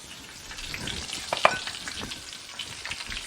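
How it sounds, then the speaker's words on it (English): Nigerian fish rolls frying in hot oil, giving a steady, close crackling sizzle with scattered pops and one sharper spatter burst partway through, no voices over it. "your fish roll is ready to hit the oil"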